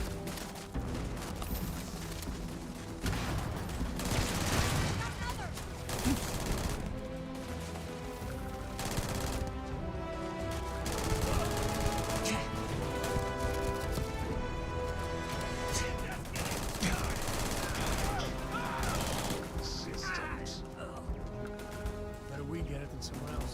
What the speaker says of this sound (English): Oh god, there's so many bullets flying right now.